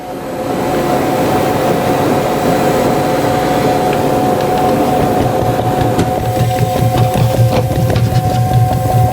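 A gelato batch freezer keeps turning after being switched off, giving a loud, continuous mechanical churning rumble with a rattling, clacking texture that holds steady for the whole stretch, with no voices.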